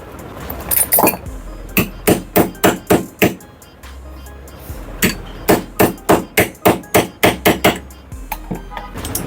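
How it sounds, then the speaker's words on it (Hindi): Steady hammer blows drive a bearing into a ceiling fan, loud close metallic strikes in quick rhythmic bursts of about a dozen hits each, separated by short pauses, with no talking. "तो अब इसको भी ठोक लेते हैं इसी में बैरिंग को"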